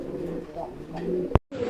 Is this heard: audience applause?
no